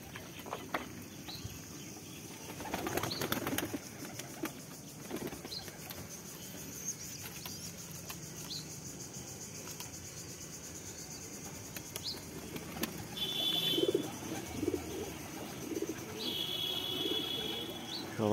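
Racing pigeons at feeding time coo softly and scattered chirps break in over an outdoor hiss, with brief bursts of wing flapping and scuffling near the start and again later on.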